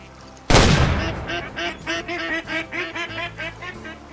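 Sudden loud gunshot in the hunting video game Way of the Hunter, followed by a run of rhythmic honking, quacking duck calls that keep repeating at a steady pace after the blast.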